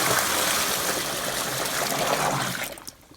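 A full bucket of water poured into a blocked drain, a steady loud gush and splash that runs for about two and a half seconds, then tails off as the flow stops.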